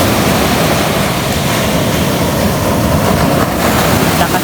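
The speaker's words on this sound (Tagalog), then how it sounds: "lakas po ng alon" Strong sea waves surge onto a sunny beach shore, a loud, continuous roaring wash of water filling the whole stretch without pause.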